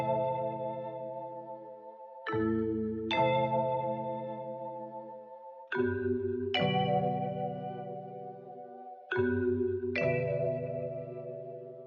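Vintage-style sampled chords processed with drive, EQ and a lush EMT plate-style reverb, three pairs of sustained chord hits swelling and ringing out with long wet tails, played alone.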